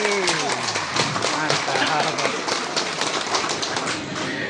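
A crowd at a car club gathering at the Sentul circuit applauds, dense continuous clapping from many hands close by with a voice speaking over it, fading slightly at the end.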